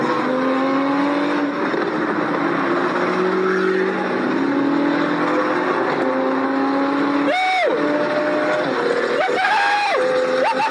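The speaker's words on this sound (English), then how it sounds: "Squeeze floors it and starts doing his thing, swerving in and out of cars on the freeway, going very fast" Car speeding down a freeway and swerving in and out of traffic, engine droning steadily loud throughout, with sharper rising whines near the end as it weaves past other vehicles.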